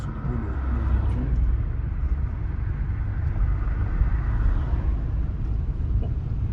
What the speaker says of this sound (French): je vais mettre en sous-régime à la bord de la montée et puis on va voir comment se déroule le véhicule